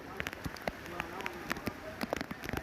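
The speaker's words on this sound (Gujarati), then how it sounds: "તો પોરબંદર જિલ્લામાં અનરાધાર વરસાદ" Heavy, relentless rain in Porbandar district, Gujarat, patters densely on surfaces nearby, with sharp individual drop clicks over a constant wash of falling water.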